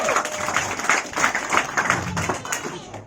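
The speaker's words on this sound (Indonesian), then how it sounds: "Tepuk tangan Bapak Ibu." An audience at a business plan presentation claps together, producing a dense, steady burst of applause for about three seconds with no break.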